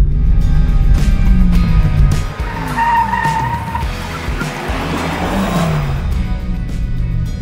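A Porsche Taycan electric car in Sport Plus mode pulls hard uphill, with a loud, steady drive whine and road roar, rising electric tones and some tyre noise running throughout.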